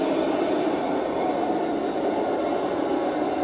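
Train coasting along the track in a train driving video game, with a steady, dense rolling rumble and wheel noise that stays constant throughout.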